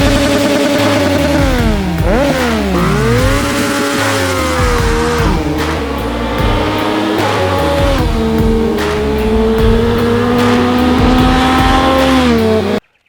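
Turbocharged Yamaha Niken motorcycle engine revving hard, loud and close, with rising and falling pitch sweeps through repeated gear-like climbs before cutting off abruptly.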